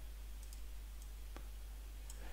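Sparse light clicks of keys being typed on a computer keyboard, a few scattered taps close by in a quiet room with a steady low hum.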